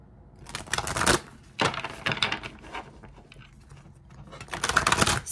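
A deck of Archangel oracle cards is shuffled by hand in three close, loud bursts of papery riffling and clattering, separated by brief pauses.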